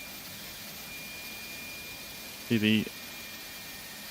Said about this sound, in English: we've got the APU fired up now.